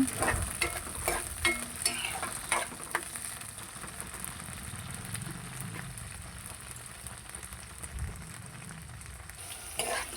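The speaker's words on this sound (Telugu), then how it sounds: "ఆయిల్ హీట్ అయిన తర్వాత మనం ముందుగా కట్ చేసి పెట్టుకున్న పచ్చిమిర్చి ముక్కలను వేసుకొని వేయించుకోవాలి" Chopped green chillies fry in hot oil for a brinjal and tomato chutney, giving a steady, close sizzle throughout with occasional soft stirring clicks and scrapes.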